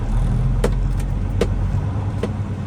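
A truck driving on snow in Alaska, with a loud steady low engine rumble and road noise inside the cab and a few brief clicks or thumps.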